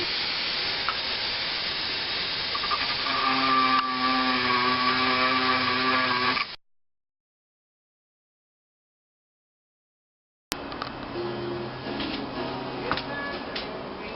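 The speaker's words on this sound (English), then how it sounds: "That'll be done with the Dremel tool." Dremel rotary tool cutting fine detail, a thin steady high whine with grinding hiss that runs for several seconds, cuts to silence, then resumes.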